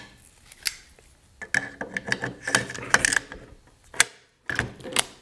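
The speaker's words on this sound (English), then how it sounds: "put the charging handle in the upper, put the bolt carrier in" Metallic clicks, slides and clacks as a charging handle and bolt carrier are fitted into a rifle upper receiver, a cluster of close mechanical sounds in the middle with a few sharp isolated clicks after.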